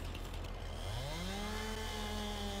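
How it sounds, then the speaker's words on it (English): Chainsaw cutting a tree in Farming Simulator 22: a steady motor drone that rises in pitch as the engine revs up and holds a whining tone, with no voices. "You've got a chainsaw, you can come in here and cut this tree down."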